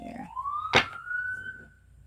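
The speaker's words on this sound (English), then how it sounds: "why do they have their sirens on for a street and then turn them off?" A siren wails with a rising then steady tone, cut by a single loud thump partway through, then trailing off.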